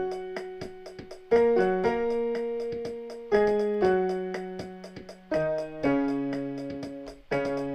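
A keyboard's built-in drum beat ticks along steadily in four, with sustained piano-style chords changing every two seconds or so over the top, clear and close.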